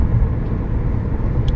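An Audi A4 B6 Cabrio with a 5-speed cruises on a highway in fifth gear at just over 2,000 rpm, a steady low engine and road rumble with no talk.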